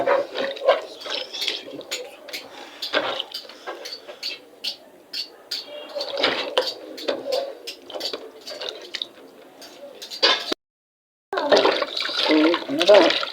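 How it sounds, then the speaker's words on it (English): Hot water pours and splashes onto meat in a container, a continuous spattering gush that briefly cuts out before resuming. "Adding hot water on it."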